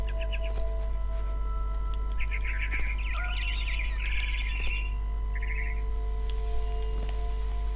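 A barn swallow chirps in a horror video game, bursts of quick bright twittering calls over a steady low hum, clustered in the middle and fading toward the end with no voices present.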